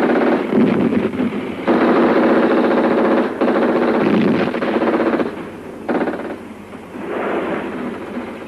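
Machine gun fire in a desert battle scene from an old war movie comes as loud, dense, rattling bursts that run for several seconds, broken by brief pauses, with a roaring battlefield din in between.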